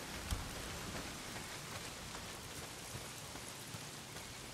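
Heavy rain pouring down steadily in Days Gone, a dense, even hiss of drops striking surfaces with occasional louder splats and no voices.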